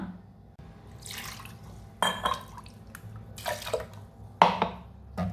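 Water poured into a clay pot of thick fish gravy, several short splashing pours and stirs separated by quiet gaps, close and alone.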